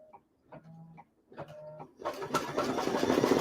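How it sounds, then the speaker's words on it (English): An embroidery machine stitches down the backing of an embroidered name tag, first in short separated bursts of stitching, then settling into a continuous, louder run of rapid needle strokes. "So it's going to go around now and stitch down the backing"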